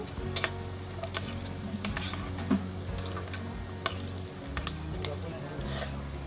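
Green chilies sizzle in hot oil in a pan while making tofu bhurji, a continuous crackling fry with frequent light ticks and pops, and occasional clinks of a spoon against the pan.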